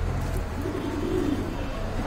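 A pair of large, top-quality pearl-eyed pigeons coo in low, soft warbling calls at close range, steady over a constant background hum.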